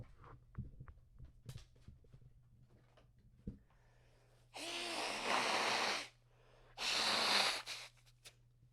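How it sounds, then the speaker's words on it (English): Two loud, broadband nose blows close to the mic, each lasting about a second and a half, after a quiet stretch of small rustles and a steady low hum. "just take a second while I blow my nose"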